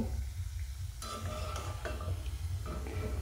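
Semolina and yogurt biscuits frying in a pan of oil over a low-medium gas flame, a steady close sizzle with light utensil clinks and scrapes on top.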